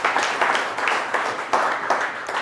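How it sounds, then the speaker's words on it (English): An audience claps together in a continuous, dense burst of applause that holds steady throughout at moderate loudness, with no voices rising above it. "Big round of applause for all the people that did that"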